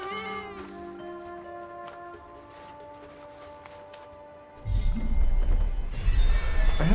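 A cat in the game Forspoken gives several rising and falling meows, then a louder rumbling crash of game sound effects takes over.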